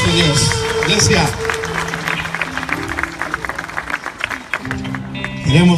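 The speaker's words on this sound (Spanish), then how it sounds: "Dale un aplauso fuerte a este Dios." Church congregation applauding during a worship service, loud dense clapping and cheering that swells and dips, with voices and music mixed in.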